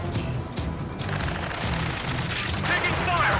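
Gunfire from Ace Combat 7 video game, a dense run of shots and impacts under steady battle noise, with radio chatter and voices talking over it.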